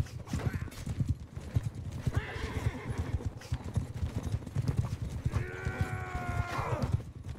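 Horses gallop with steady pounding hoofbeats in the Mount and Blade Bannerlord battle game, and two loud whinnies rise above the rhythm, the whole thing continuous and close.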